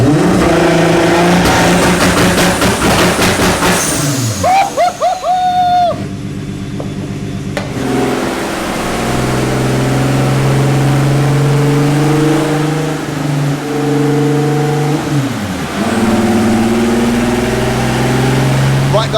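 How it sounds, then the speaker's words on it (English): A turbocharged car on a dyno revs hard in loud, sustained bursts, the engine note climbing and dropping repeatedly with brief pauses between pulls, close and dominating throughout. "running the car on the dyno there"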